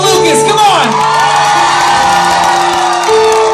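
Live concert crowd loudly cheering, whooping and shouting for a performer at a show, a dense sustained roar of voices close to the stage.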